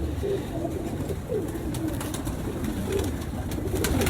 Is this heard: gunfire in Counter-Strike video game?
no